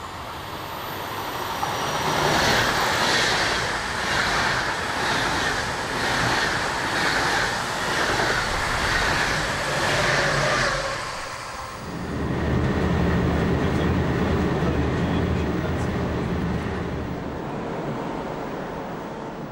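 A DB class 101 electric locomotive hauling an Intercity train passes through Bacharach, a loud sustained rush of rolling wheels and wind that briefly dips before the wagons continue rumbling past close by, with no talk.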